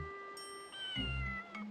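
A cat meowing in the Breath of Fire IV video game, a short synthetic meow with a low thump, close and clear amid faint game tones.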